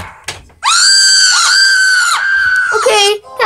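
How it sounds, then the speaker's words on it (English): A loud, sustained high-pitched scream fills most of the moment in a supposedly haunted house, wavering briefly before breaking into a shorter shriek at the end. "Did you hear that scream?"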